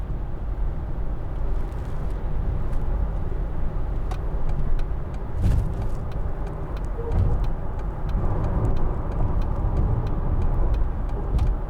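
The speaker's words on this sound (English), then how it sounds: "We'll just do some braking from 70." A 2010 Mercedes-Benz CLC200 CDI slows from 70 under braking, heard from inside as a steady low road and engine rumble with faint clicks and knocks throughout, no voices.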